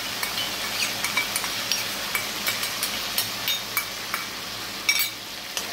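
Sour yogurt hits a hot frying pan and is stirred in, making a steady close sizzle broken by regular light scrapes and clinks of a spoon against the pan.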